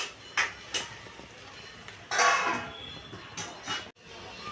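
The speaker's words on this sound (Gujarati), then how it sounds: "હવે એને આપણે હલાવી થોડીક વાર ઢાંકી દેવાનું છે." A spoon clinks and scrapes against a metal pot while eggplant vegetable curry is stirred, and then the lid is set down with a clatter, close by and fairly quiet.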